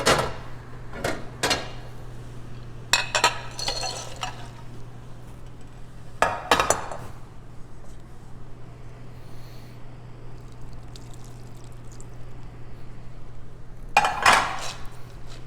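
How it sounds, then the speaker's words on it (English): Roasted spiced nuts tumble from a hot oven tray into a bowl and are stirred with bourbon butter: scattered bursts of clattering and clinking, several short runs separated by quieter gaps over a low steady hum. "take them out of the oven, place them in the bowl, and mix everything together"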